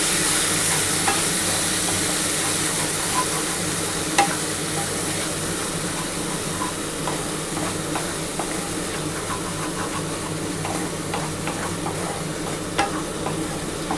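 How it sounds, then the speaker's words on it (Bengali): Mustard and poppy seed spice paste frying in a pan for prawn malai curry, a steady dense sizzle with faint scraping stirs throughout, close and alone without voices. "আগে প্রথমে কিন্তু এই মশলাটা একটু কষিয়ে নিতে হবে"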